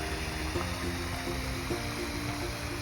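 Water pouring from a water truck's line into a pond, a continuous quiet rushing wash with faint repeated ticks in the background and no one talking.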